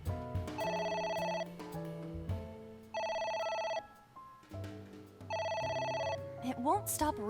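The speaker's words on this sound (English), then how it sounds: "It won't stop ringing." A telephone in the video game AI: The Somnium Files rings in three long electronic bursts with short pauses between them. A brief sound effect follows at the end.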